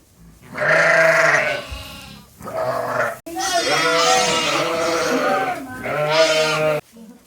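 Lambs and ewes bleat loudly and close by in a pen, with long wavering calls overlapping one after another through most of the stretch.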